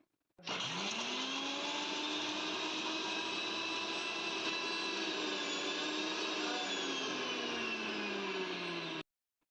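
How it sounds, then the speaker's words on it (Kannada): A mixer grinder whirs at a steady high pitch as it dry-grinds ginger, coriander and garlic, starting abruptly and running loud and continuous for about nine seconds before cutting off. "ಡ್ರೈಯಾಗಿ ಇದನ್ನು ಮಿಕ್ಸಿ ಒಳಗೆ ರುಬ್ಕೊಂಡು ತೊಗೊಳತ್ತೀನಿ"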